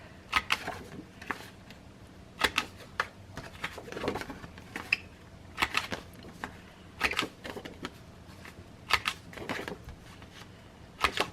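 A 1/4 inch corner rounder punch clicks through black cardstock in a series of sharp, close snaps, arriving in small uneven groups with handling rustle between them.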